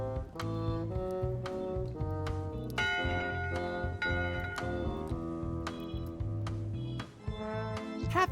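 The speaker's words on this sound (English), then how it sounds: "Someone rang the bell" A ship's bell in Return to Monkey Island rings repeatedly, each clear metallic strike ringing out over a bed of sustained background music, steady and fairly loud.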